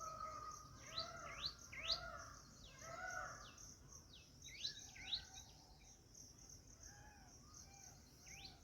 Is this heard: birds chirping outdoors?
yes